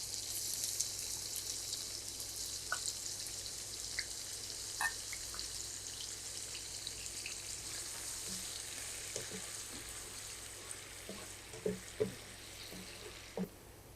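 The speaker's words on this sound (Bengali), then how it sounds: "আর এখন আমি পেঁয়াজ দিয়ে দিচ্ছি।" Half a bowl of onions frying in hot oil for kofta pulao gives a steady, bright sizzle throughout, with occasional soft clicks and pops rising near the end.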